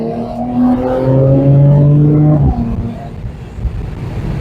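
A Mercedes C43 AMG engine revs and climbs in pitch, then drops sharply as it shifts, settling into a lower rumble with road noise.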